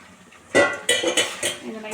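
Ingredients for Karnataka-style avalakki (flattened rice) tipped into a pan and stirred, giving a few sharp metallic clinks and scrapes of pot and spoon in under two seconds, with a voice speaking alongside.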